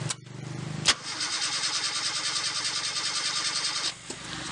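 Toyota Kijang car engine cranking and catching at close range, settling into a steady, loud idle with a rhythmic pulse after a sharp start, then briefly dipping before continuing.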